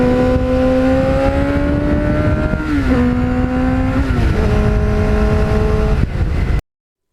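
A restored 1989 Kawasaki GPX750R Ninja motorcycle with a Muzzy muffler idles and revs loudly up close, its steady engine note stepping up and down through several throttle changes before cutting off abruptly.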